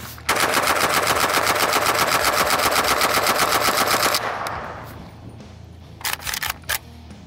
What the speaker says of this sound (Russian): Сперва, темп стрельбы добротного АКМ.